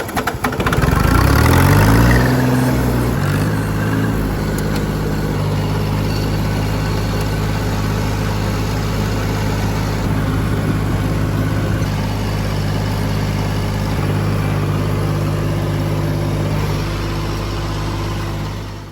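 An old farm tractor engine cranks and catches, then settles into a loud, steady low idle that runs on unbroken, close by, with no talking.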